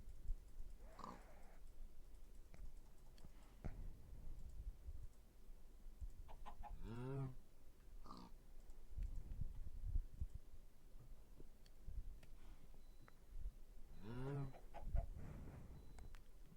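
Chicken clucking from a video game, with a couple of bright harmonic calls standing out over a busy low game background, repeated twice across the stretch.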